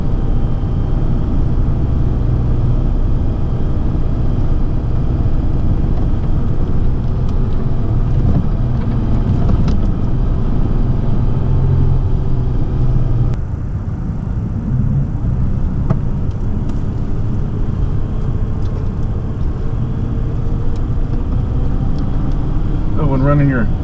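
A pickup truck creeps along at low speed while a bird dog runs ahead at a grouse hunting camp; a steady low engine drone and tire rumble carry throughout, with a dip in level partway and a voice talking over it.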